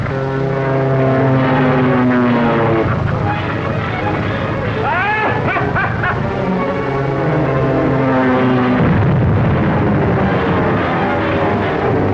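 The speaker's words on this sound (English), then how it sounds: "Rocket plane 8 miles off Devil's Point, heading for the Navy anchorage." A rocket plane's engine in a 1939 adventure serial drones loudly and steadily throughout with a propeller-like roar, while voices talk beneath it.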